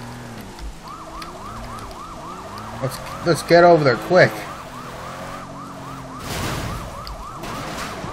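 A police car siren wails in the video game Sleeping Dogs, a loud rising and falling electronic tone that cycles steadily throughout, with someone speaking briefly over it midway.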